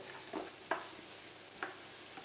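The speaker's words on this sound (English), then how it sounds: "So let's give that a stir." Frozen corn being stirred into beef in a frying pan, with a low sizzle under scraping and a few clacks of a utensil against the pan, with no talking.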